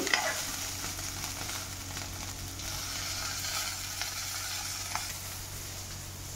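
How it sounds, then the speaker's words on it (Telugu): Chopped green chillies fry in hot oil with a steady, close sizzle and soft crackle, with occasional faint stirring clicks of a utensil in the pan. "పచ్చిమిరపకాయలు కట్ చేసేసానండి, పైన పడతాయని ఆయిల్లో వేస్తే. అందుకని ఇవి కూడా మగ్గుతున్నాయండి."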